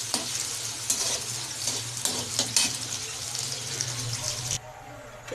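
Onions stirred and fried in a pan until brown, a steady close sizzle with repeated scraping stirs throughout, easing off near the end.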